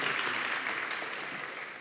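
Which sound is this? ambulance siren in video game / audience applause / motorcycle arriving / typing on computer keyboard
audience applause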